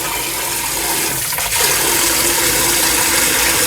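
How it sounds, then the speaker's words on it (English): Cold tap water runs steadily and loudly as raw kidneys are rinsed under it, a continuous gushing splash with no talking. "I have to wash them in a cold water quite well, and then drain them."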